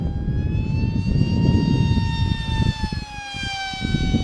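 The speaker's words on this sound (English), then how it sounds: "Just putting this motor through its paces." SunnySky 2207 2100kv brushless motor on an FT Arrow RC plane, a loud high whine with stacked harmonics that drifts in pitch as the throttle shifts, over heavy wind rumble.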